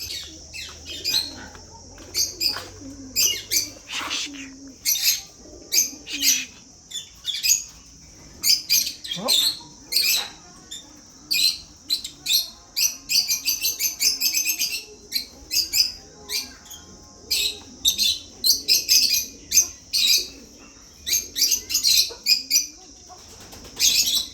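Parrots flying about near ducks and chickens, with repeated bursts of wingbeats and sharp squawking chirps coming in irregular clusters at close range. Pauses between the bursts are fairly quiet.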